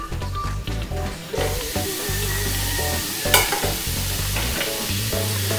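Ground beef with garlic and onion sautéing in butter in a pan, a steady loud sizzle with stirring scrapes throughout, with background music playing over the cooking.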